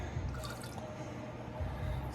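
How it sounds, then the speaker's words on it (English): Water poured in a thin stream into a beef roast bouillon mixture, with a soft steady trickling and dripping, quiet and close, and no talking. "So put a little bit of the water in there."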